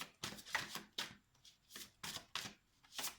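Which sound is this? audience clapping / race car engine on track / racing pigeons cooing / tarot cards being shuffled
tarot cards being shuffled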